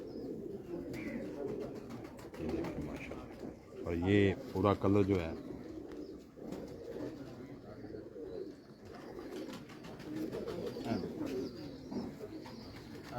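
Pigeons of a rare, decades-old breed, males and females together, coo in low repeated bursts, clearest in a short run midway, beneath someone talking steadily over them.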